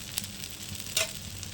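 Adai dosa batter fries in plenty of oil on a high flame, a continuous close crackling sizzle with a couple of sharper spits.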